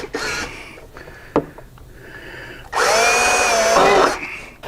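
A power drill bores pilot holes with a small pilot bit while fitting speaker pods to a rear tour trunk pack, giving two short close bursts of whirring, the second longer and louder.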